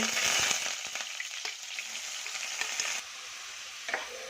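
Fennel seeds sizzling in hot oil in a pan, a bright crackling fry that starts loud and fades a little, with a few sharp clicks and taps from a spoon.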